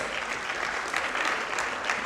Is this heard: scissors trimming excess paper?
no